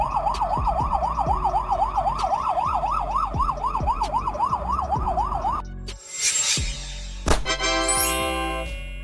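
A Romanian ambulance siren wails in a steady, rapid up-and-down sweep, loud and close for several seconds, then cuts off abruptly and gives way to a burst of other harsh, tonal siren sounds.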